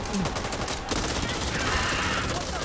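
Rapid gunfire in Back 4 Blood, dense automatic bursts crackling steadily throughout, loud and near, with a voice talking over it.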